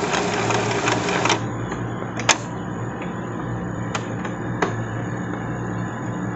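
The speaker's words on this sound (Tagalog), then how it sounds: "Maririnig nyo siya na nagpa-function na yung cleaning or nagpo-progress na." An Epson L360 inkjet printer runs its head cleaning cycle, giving a steady mechanical whir with a brighter buzzing layer for the first second or so, then a few short clicks and taps over a continuous motor hum.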